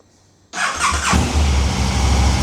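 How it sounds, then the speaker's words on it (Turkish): A KTM 1290 Super Duke R motorcycle with stock exhaust cranks and catches after a moment of quiet, then settles into a loud, rumbling idle close by. "Şimdi motoru bir çalıştırayım sesini duyalım"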